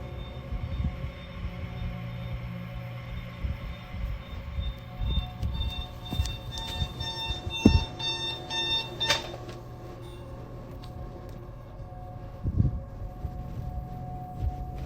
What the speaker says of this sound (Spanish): Ahora la alarma está sonando.